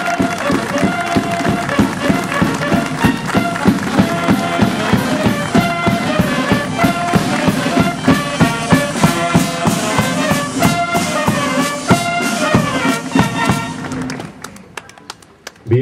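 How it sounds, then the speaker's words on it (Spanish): A crowd at a school flag-day oath ceremony claps loudly and steadily, in a dense, even patter of hands that fades out near the end. "Un fuerte aplauso."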